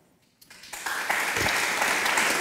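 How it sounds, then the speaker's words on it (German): Applause from a conference audience at a climate-themed Q&A starts from near silence with a few claps and quickly builds into loud, dense, sustained clapping. "Applaus"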